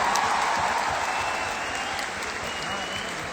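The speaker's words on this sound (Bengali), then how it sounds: "একটা দেবের জন্য জোরে হাততালি চাইবো সবার কাছ থেকে।" A crowd at a celebration marking actor Dev's twenty years as a star breaks into loud, dense applause, a continuous wash of clapping that holds steady for a few seconds.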